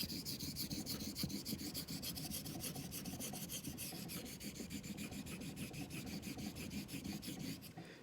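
A Filarmonica 14 straight razor bevel being honed on a stone: fast continuous back-and-forth scraping strokes, close and steady, with no talking.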